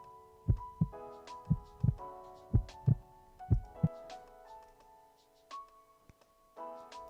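Heartbeat sound effect, a run of deep, close thumps in a steady double-beat rhythm, then fading under a soft hum.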